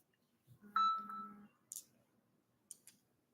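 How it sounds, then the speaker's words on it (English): Short electronic phone beep with a few tonal bleeps, followed by two faint, sharp clicks in an otherwise quiet room. "Time a car goes by, the stupid phone goes off."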